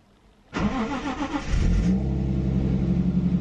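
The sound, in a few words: drift car engine starting with new spark plugs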